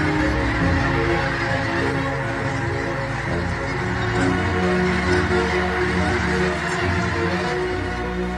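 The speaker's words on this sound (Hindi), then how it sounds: "तकरीबन 5 लाख स्नो गीज आ पहुंचे हैं।" A huge flock of snow geese, roughly half a million birds gathered over a Mississippi tributary in November, honks in a dense continuous roar that goes on without a break throughout.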